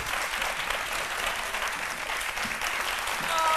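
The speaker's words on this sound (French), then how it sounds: "on les applaudit très fort" Sustained loud applause from a television studio audience, a dense wash of clapping that continues throughout.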